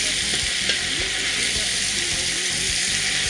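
Chicken cari with calebasse and chouchou sizzles in a pan over high heat while a spoon stirs it, a steady loud frying hiss with scraping strokes throughout.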